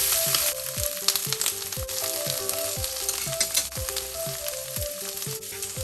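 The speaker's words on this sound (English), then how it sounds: "I will add in the okra. Stir fry for 1 or 2 minutes." Okra and chicken sizzle loudly in a hot pan while a utensil scrapes and knocks rhythmically against the metal as they are stir-fried.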